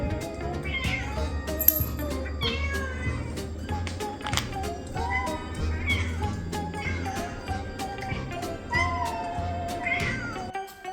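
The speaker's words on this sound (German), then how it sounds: "miauen" A pet cat meows repeatedly in a home setting, loud and close, with a steady low hum running underneath and no one speaking.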